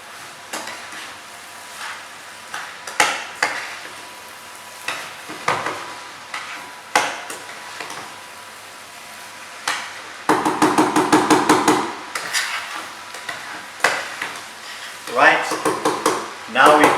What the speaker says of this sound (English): Mix that in.